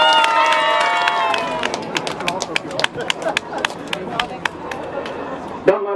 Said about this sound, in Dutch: U daarvoor applaus voor de tweede plaats